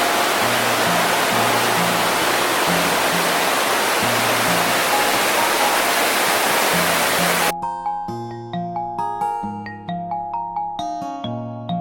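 A waterfall in the misty hills of Idukki, Kerala, roars as a dense, constant rush of falling water for about seven seconds, then cuts abruptly to a plucked, chiming melody.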